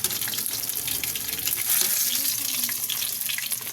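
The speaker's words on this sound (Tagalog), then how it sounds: "Prito na ako ng chicken." Chicken frying in a pan, a continuous oily sizzle and crackle, close and steady, with faint clinks of stirring and no talking.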